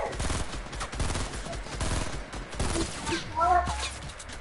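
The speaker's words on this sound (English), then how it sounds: "Who's shooting?" Rapid gunfire crackles in a Fortnite match, dense bursts of shots overlapped by players talking, with a brief electronic tone near the end.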